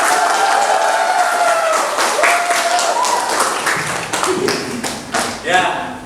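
A classroom full of students applauding together during a lesson, steady dense clapping that swells briefly and then thins, with voices calling out and a few words spoken over it.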